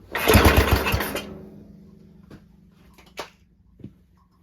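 Cub Cadet Original engine on half choke catches briefly, giving a loud sputtering burst for about a second that then dies away, followed by faint clicks and knocks in a quiet setting.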